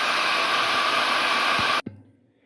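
A hair dryer blows steadily and loudly on a loose watercolor still life of a bunch of fruit, then cuts off abruptly near the end, leaving a brief thump and quiet room tone.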